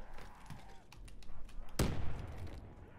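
A grenade explodes in Black Ops 3 custom zombies, one sharp loud blast that breaks into a rumbling tail, following a few softer game sounds.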